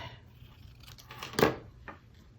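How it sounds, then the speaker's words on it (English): Scissors snip through paper during a stamping and card-making session, giving a short crisp cut with a louder slice near the middle and a fainter snip after it, close by and with no speech. "I am not adverse to using scissors."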